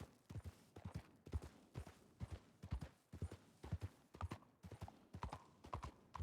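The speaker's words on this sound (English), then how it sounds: "There's quite a few horses around here" Horses' hooves clip-clopping in a roleplay video game, a quiet, regular rhythm of paired hoof strikes continuing steadily and evenly throughout, with no voices.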